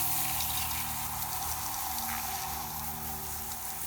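Steady rush of shower water spraying over fishing reels that have just come off the rod after wade fishing, a continuous close hiss with no voices.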